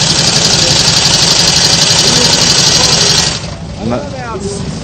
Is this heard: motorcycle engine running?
yes